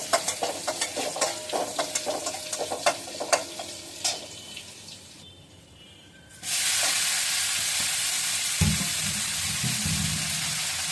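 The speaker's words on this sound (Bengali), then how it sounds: "বন্ধুরা কড়াইতে তেল দিয়ে দিব, আর তেলের সাথে লঙ্কাও দিয়ে দিছি। লঙ্কা দিয়ে তারপরে লঙ্কাগুলো ভেজে উঠিয়ে নিব।" Utensil clatter against a wok gives way to a quiet pause, then green chillies hit hot oil with a sudden loud, steady sizzle that holds to the end, no talking.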